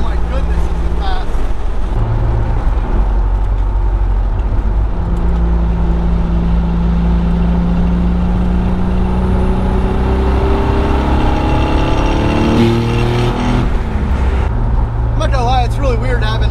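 Built twin-turbo Nissan 300ZX with its wastegates open, heard from inside the car as a loud, steady engine drone whose pitch rises and drops through gear changes, with a brief flutter near the end.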